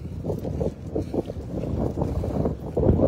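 Strong wind buffets the microphone continuously on a riverside at night, a heavy low rumble that swells and gusts without letup, with no other clear sounds.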